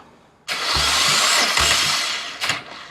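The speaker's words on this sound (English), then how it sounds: "we will crank it until really the needle stops climbing" A BMW E90 335i with the N54 engine cranks for a compression test, the starter whirring in a long sustained burst with two brief rhythmic pulses inside it, then stopping and giving a short second burst.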